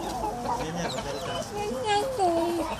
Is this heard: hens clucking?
yes